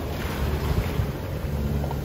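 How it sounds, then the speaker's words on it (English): Strong wind buffets the microphone aboard a sailboat at sea in rough, bouncy conditions, a steady dense roar with low rumbling gusts and the wash of water throughout, no voices. "it got really bouncy and the wind picked up a little bit"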